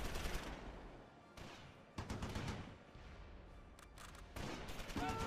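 Heavy machine gun fire in the video game Close Combat: dense, sustained bursts of rapid shots that roll on with brief gaps, loud and close, with no voices.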